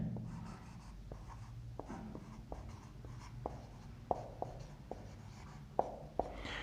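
Marker or chalk writing on a board during a physics lesson, a series of faint scratchy strokes with sharper taps at irregular intervals over a quiet room hum.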